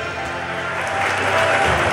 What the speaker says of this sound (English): We need a thunderous round of applause, ladies and gentlemen.